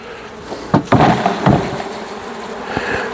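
Honeybees flying up during an indoor hive inspection in a kitchen, a close, wavering buzz broken by a few sharp knocks and clatters of frames and hive parts, with no talking.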